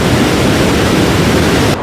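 Swollen river water rushes under an old, monsoon-damaged bridge at Sonprayag on the Kedarnath route, a steady, loud broadband roar that cuts off abruptly near the end.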